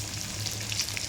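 Spinach and coriander tempering sizzles in a pan, a continuous close fry with faint pops and light stirring, heard alone without voices.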